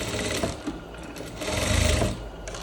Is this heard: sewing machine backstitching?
yes